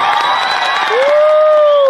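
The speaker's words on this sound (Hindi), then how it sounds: "एक जोरदार तालियां" A crowd at a public gathering or rally cheers and claps, with loud shouts and whoops over scattered applause and one voice rising above the noise.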